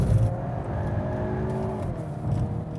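A Hyundai Kona N accelerates hard in second gear on a race track, its engine note climbing steadily under a constant whirring drone, heard from inside the car without talk.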